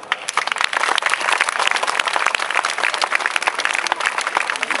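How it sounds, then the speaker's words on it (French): Audience applause welcoming a singer at a live show, a steady, dense wash of clapping from a large crowd, loud and sustained throughout without speech. "je vous demande de l'applaudir bien fort"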